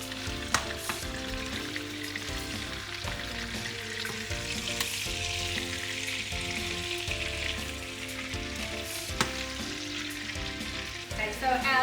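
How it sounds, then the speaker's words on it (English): Pork fillets browning in butter in a hot pan, giving a continuous bright sizzle and crackle with occasional spits and pops, steady and close-up, with no one talking. "our pork fillets are in the pan. They're just browning up nicely with some butter."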